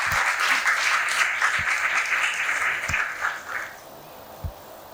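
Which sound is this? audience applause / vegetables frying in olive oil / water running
audience applause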